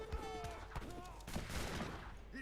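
Cannon fire in a video game battle comes as a quick series of booming bursts scattered over a couple of seconds, with voices talking over the gunfire.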